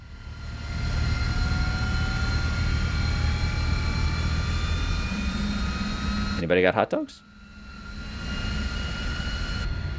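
An iniBuilds T-33 jet engine in Microsoft Flight Simulator spins up on its own, a steady roaring whine with rising tones that briefly cuts out before building again, while someone speaks over it.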